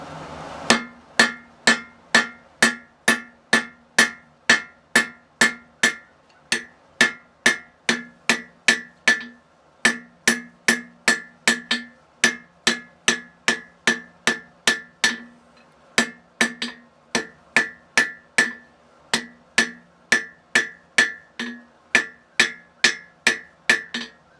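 Hammer striking metal on an anvil while forging a flintlock frizzen, sharp ringing blows in a steady rhythm of roughly two per second, close and alone, with brief pauses between runs.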